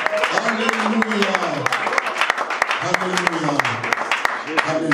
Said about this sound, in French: Est-ce qu'il y a quelqu'un qui peut applaudir encore très fort le Seigneur?